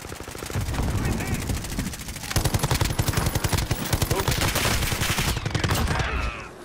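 Rapid automatic gunfire in the Call of Duty Warzone video game, dense bursts of shots crackling close and loud almost without pause while someone talks over the firing.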